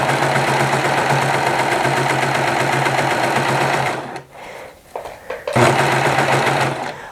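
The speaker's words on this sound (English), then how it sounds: "And now we're going to start serging it." Serger sewing machine running steadily as it stitches fabric, a close, continuous whirring hum with faint rhythmic pulsing, pausing briefly partway through before resuming at the same speed.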